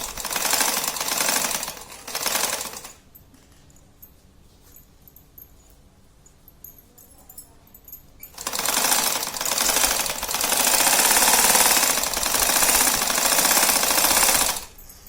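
Home sewing machine running in bursts while stitching a straight seam on a fabric clutch purse, with loud rapid mechanical chatter that stops for a quiet pause of several seconds and then resumes and continues steadily.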